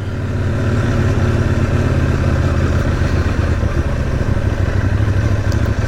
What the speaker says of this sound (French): Là le moteur il est assez souple.